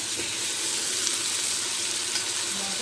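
Tomatoes dropped into a pot of frying degi aloo gosht, giving a steady, close, continuous hiss and sizzle of hot oil with no talking.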